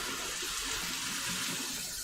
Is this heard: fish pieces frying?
no